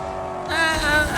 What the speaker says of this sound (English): I'm listening to the engine sound of this car.